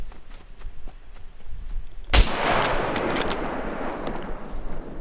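A sharp, loud gunshot rings out in the survival video game SCUM, followed by a lingering burst of further fire and rumbling echo, after a quieter stretch of faint ticks and footsteps.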